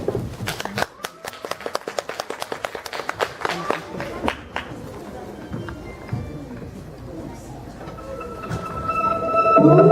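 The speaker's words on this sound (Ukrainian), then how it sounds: "Оплески." Applause breaks out from an audience at a concert of Ukrainian song, a burst of dense clapping that gradually thins to scattered claps as a tone begins near the end.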